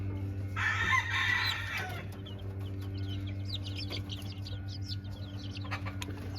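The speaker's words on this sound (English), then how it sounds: "Here's a little rooster," A young yellow-legged rooster, likely a game cross, gives one short, loud crow at close range, followed by softer clucks and bird chirps over a steady low hum.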